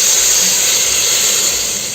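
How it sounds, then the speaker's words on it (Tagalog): A pressure cooker cooking beef and bones releases a continuous loud, high steam hiss from close by, steady across the whole stretch and easing slightly toward the end. "nabatiaman niyo siguro nga gasirit-sirit na natin nga pressure cooker."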